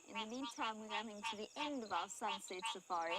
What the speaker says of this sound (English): I'm so rusty with my frog calls that I actually can't even remember what species this really is.